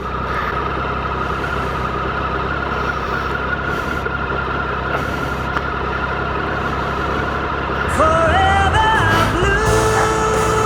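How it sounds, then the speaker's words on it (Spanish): Steady motorcycle engines idling rumble throughout, close and continuous, with a rising whine of revving joining near the end. "Yo creo que le asusta el ruido de las motos."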